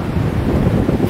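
Ocean surf washes onto a wide Bali beach at sunset, a steady broad roar heavily buffeted by wind against the microphone.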